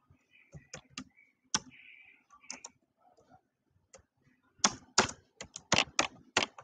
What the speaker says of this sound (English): Okay, I'll type a sentence here.